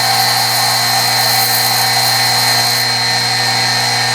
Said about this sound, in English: Just grind back and forth.